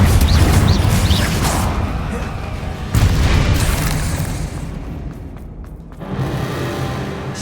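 Confringo fire-blast spell explosions in the Hogwarts Legacy video game during a fight with spiders, several loud booming bursts in quick succession with a strong one near the middle and another near the end, over continuous game noise.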